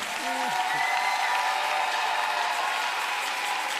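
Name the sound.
congregation applause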